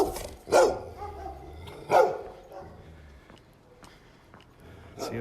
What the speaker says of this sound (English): the dogs are really aggressive around here.